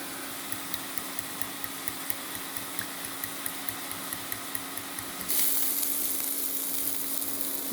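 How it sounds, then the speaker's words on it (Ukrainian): Eggplant pieces frying in a pan for a casserole, a steady sizzle with faint regular ticking, then a louder, brighter burst of hiss near the end as the frying intensifies, close and without talk. "час від часу помішуємо баклажани"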